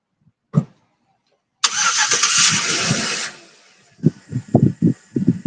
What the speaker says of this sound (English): Car's about to get noisy.